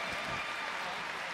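A brief burst of crowd applause closing a Paralympic table tennis match at the London 2012 Games, a dense, even clatter of clapping held steady for just over a second.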